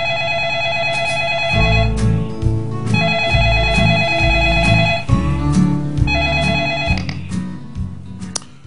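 Telephone rings in bursts of roughly a second each, repeating about three times over steady background music, placed before a phone interview on a Korean political talk programme.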